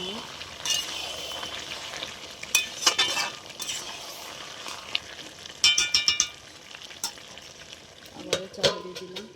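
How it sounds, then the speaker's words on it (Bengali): Grated coconut being stirred into a pan of cooking pumpkin and sweet potato: frying sizzle under repeated spoon scrapes and clinks against the pot, coming in bunched bursts, with a brief low voice near the end. "তার জন্য আমরা নারকেল কুড়াটা দিয়ে দিচ্ছি, ভালো করে নাড়িয়ে নেব"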